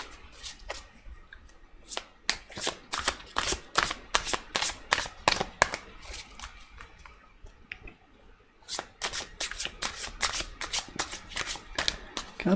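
Tarot cards being shuffled and drawn from a deck, quick crisp riffling flicks in close-up bursts, pausing briefly midway and then resuming, with a quiet voice talking underneath.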